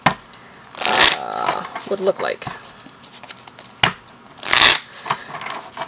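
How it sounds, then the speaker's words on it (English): Two quick riffle bursts of a Magic: The Gathering card deck being shuffled close by, separated by a few seconds with a brief bit of speech between. "I'm going to shuffle real quick"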